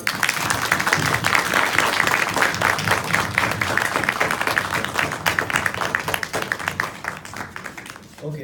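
A room full of audience members at a Hindu mythology quiz event claps steadily for the quiz participants, dense and loud throughout before tapering off near the end.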